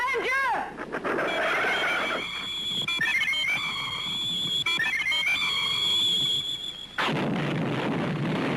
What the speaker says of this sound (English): I'm going to use my whistle.